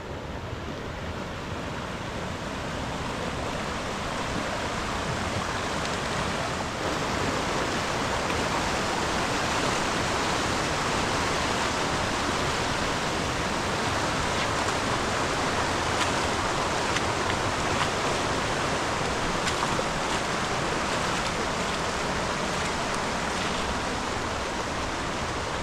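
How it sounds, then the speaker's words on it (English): Bear Creek, a mountain creek on the Sun River forks, rushes steadily and close by, a dense, unbroken roar of flowing water with no voices. "This is Bear Creek."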